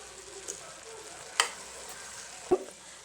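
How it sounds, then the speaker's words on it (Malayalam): A jackfruit seed and jackfruit curry masala sizzles in a pan after a little water is added, with a steady close hiss broken by a few distinct spoon clacks against the pan as it is stirred. "1/4 ഗ്ലാസ് വെള്ളം ഒഴിച്ച് ഇളക്കി നമുക്കൊന്ന് അടച്ച് വെച്ച് വേവിക്കാം."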